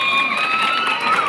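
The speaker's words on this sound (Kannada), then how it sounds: "ಒಂದು ಬಾರಿ ಜೋರಾದ ಚಪ್ಪಾಳೆ ಬರ್ಬೇಕಾಗ್ತಾರೆ" Crowd cheering and applauding at a boys' mat kabaddi match, a steady broad roar of shouts and claps sustained throughout with no pauses.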